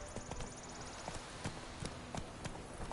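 Horse hooves trot in a steady clip-clop rhythm in a video game, each hoofbeat sharp and evenly spaced over a soft ambient background, with no talk.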